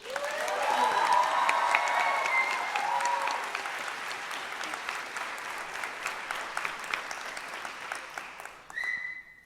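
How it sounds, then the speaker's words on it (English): An audience at a Bharatanatyam dance debut recital claps in sustained applause, loud and dense at first and slowly thinning to scattered claps, with a brief tone near the end. "I was going to ask for a special round of applause, but I think you guys already did that."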